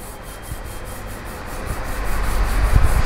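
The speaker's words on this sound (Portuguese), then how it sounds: "preste atenção no barulho da fricção do meu dedo" A finger rubbing across the paint surface of a BMW M2 gives a steady, close, rough friction hiss that grows louder toward the end, with no talking.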